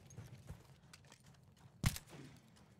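In Battlefield 1, a horse's hooves clop in a few faint, sparse steps with one sharper thud, quiet and close.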